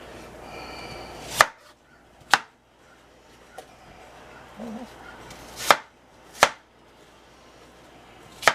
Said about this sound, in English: you can also peel with the paring knife